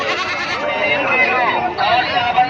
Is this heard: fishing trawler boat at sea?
no